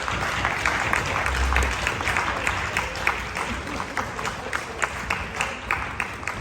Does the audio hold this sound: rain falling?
no